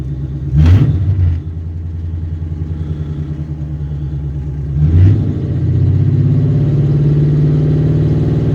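A car engine, being tuned for nitrous, idles steadily while two sharp throttle blips rev it up and drop back, the second settling into a higher, raised idle close by.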